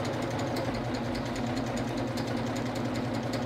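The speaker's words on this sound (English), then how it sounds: "Now I'm going to lock the cutting blade and continue feeding the elastic into the stitch." A serger sewing machine runs steadily while elastic is fed through its stitch with the cutting blade locked, making a continuous close mechanical whir with a fast rhythmic buzz and no pauses.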